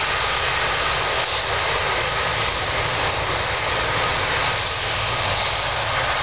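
A Star Alliance-liveried Turkish Airlines jet on the runway at Geneva Airport gives off a loud, steady engine roar that fills the whole stretch without letup.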